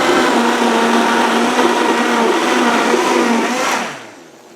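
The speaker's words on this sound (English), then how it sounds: "So we're going to mix that up." A blender whirs steadily as it mixes a green smoothie, a loud, continuous motor drone with churning that runs without a break for about four seconds and then cuts off and winds down.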